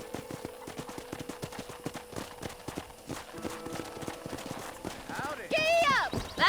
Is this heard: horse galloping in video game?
yes